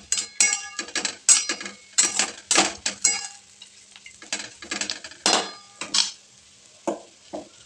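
Potato and crushed peanut powder stirred in a pan: close, repeated scraping strokes in an uneven rhythm, each followed by a brief pause, with no talking.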